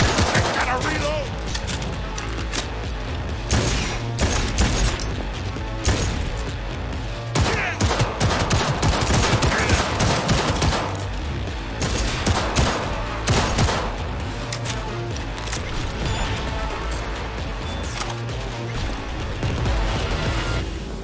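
Dense gunfire in the Cyberpunk 2077 video game: rapid automatic bursts and overlapping shots fire almost without pause, loud and close, with voices shouting in the mix.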